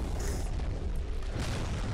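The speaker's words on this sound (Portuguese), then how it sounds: "eles vão colocar as bombas pra explodir" A bomb explosion from a Skibidi Toilet animation booms low and heavy, rumbling across the whole moment with a second surge of blast noise partway through and no talking over it.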